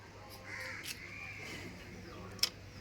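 Crows caw several times nearby in quick succession, with a sharp high chirp near the end and faint background noise.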